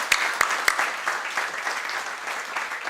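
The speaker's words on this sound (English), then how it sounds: "So, a round of applause for them." Applause from a graduation-day audience for friends, faculty and family, a dense steady patter of many hands with a few sharp claps standing out near the start.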